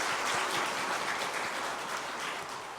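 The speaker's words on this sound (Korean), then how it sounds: "박수 한번 하겠습니다." A church congregation claps in welcome, producing a dense, even wash of applause with a murmur of voices underneath that holds steady for a few seconds.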